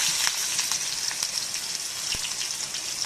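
Garlic fries in coconut oil in a pan, giving a steady, close, even sizzle with faint crackles and no talk.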